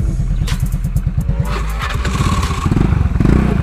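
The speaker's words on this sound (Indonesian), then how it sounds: "Jadi knalpot itu standar ya, belum di apa-apain." A 2012 carbureted Honda Beat scooter engine with stock exhaust idling with a steady putter, then revving up louder near the end; no one speaks.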